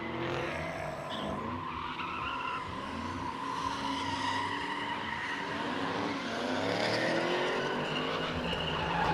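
A supercharged 5.4-litre GT500 drift car slides at a drift track test-and-tune day, tires skidding in a long, wavering squeal over engine roar, moderately distant and continuous.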